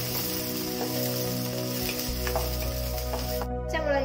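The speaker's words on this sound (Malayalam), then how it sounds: "പച്ചമുളകിന്റെയും സവാളയുടെയൊക്കെ പച്ചമണം മാറുന്നവരെ നമുക്കൊന്ന് വഴറ്റി കൊടുക്കാം." Green chillies and onions sautéing in hot oil for vegetable noodles, a dense, even sizzle like steady rain with a few light stirring clicks, close and constant, ending in a brief cut.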